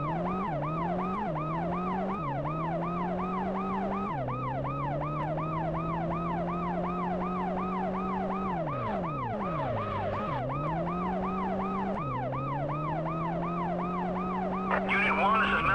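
An ambulance siren wails in the PS1 game World's Scariest Police Chases (2001), a loud, steady yelp that cycles rapidly and changes pitch pattern several times, with engine rumble underneath and a brief noisy burst at the end.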